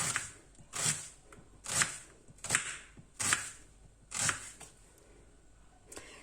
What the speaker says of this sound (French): je vais découper nos oignons en fines lamelles